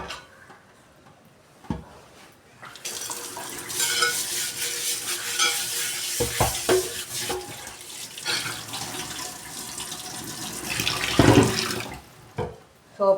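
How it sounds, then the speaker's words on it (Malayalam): A dosa pan is washed in soapy water at a sink. Close, continuous splashing and scrubbing run for several seconds, with a few sharp knocks of the pan and a louder burst of running water near the end. "ഇനി കുറച്ച് സോപ്പ് വെള്ളത്തിൽ കഴുകണം."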